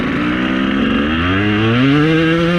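A KTM 200 EXC two-stroke dirt bike engine revs loud and close, its pitch climbing steadily through the power band over a few seconds with a continuous buzzing drone and no talk.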